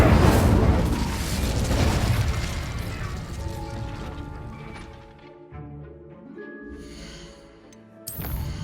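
An Incendio fire spell cast in the video game Hogwarts Legacy bursts loudly with a whooshing roar at the start, then fades into a long tail under soft game music.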